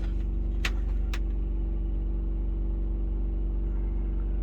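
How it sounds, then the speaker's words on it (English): A steady low generator engine drone hums continuously, with a couple of brief sharp clicks near the start; the motor holds a constant pitch throughout. "I kind of hear the generator going up on RPMs."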